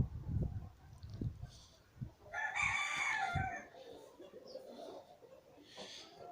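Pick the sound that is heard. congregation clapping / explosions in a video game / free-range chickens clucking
free-range chickens clucking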